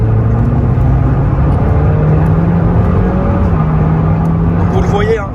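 A car accelerating strongly, with a loud, steady engine drone and road roar throughout while people talk inside the cabin.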